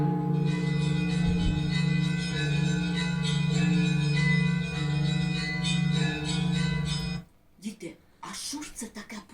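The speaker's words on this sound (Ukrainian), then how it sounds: "Ну, звичайно, церковні дзвони." Church bells ring steadily with a sustained, layered metallic toll that fills the space, then stop abruptly and voices take over.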